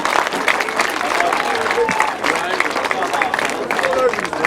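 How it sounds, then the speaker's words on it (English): Crowd applause and cheering at a 2013 world team longtrack speedway championship, a steady dense wash of clapping with crowd noise running throughout, loud and unbroken. "Give him a big round of applause, please."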